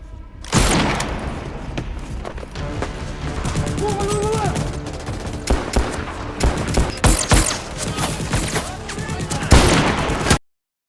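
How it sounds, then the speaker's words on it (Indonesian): Dense bursts of gunfire crack and thud continuously, overlapping shots from multiple weapons in a sustained exchange, loud and close, with some voices mixed in. "segera memulai kembali baku tembak di antara dua kubu"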